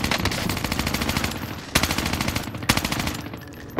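Dense, loud automatic gunfire and explosive bursts during an airstrike in the video game Call of Duty: Modern Warfare, a continuous rattling barrage punctuated by two sharp heavy impacts.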